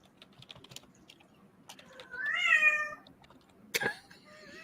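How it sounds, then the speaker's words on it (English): A ship's cat gives a clear rising meow, followed by a short chirp, over a steady background of soft clicking and tapping. "my ship's cat came along for the journey"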